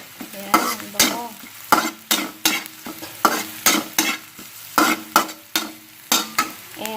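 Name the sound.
ginger frying in butter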